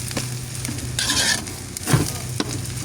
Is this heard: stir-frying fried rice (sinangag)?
yes